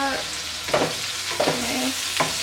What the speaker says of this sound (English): I'm gonna add in some diced tomato and just mix that in with the rest of the veggies in the pot.